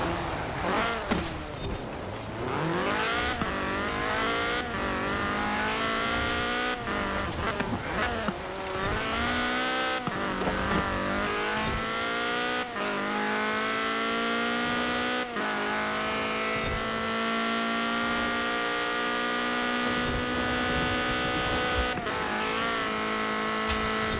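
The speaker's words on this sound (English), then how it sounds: "this car is just so ridiculously fast at accelerating" A Ford Fiesta race car in Forza Horizon 4 revs hard through repeated rising gear pulls, its engine whining higher with each shift, loud and close over a steady background.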